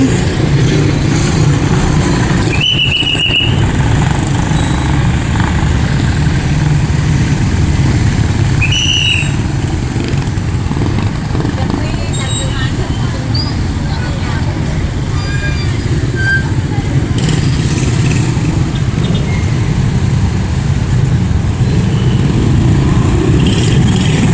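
Heavy street traffic in Bangued, Abra, with motorcycles and cars idling and creeping along, a steady dense engine rumble throughout with brief horn-like tones and occasional passing revs.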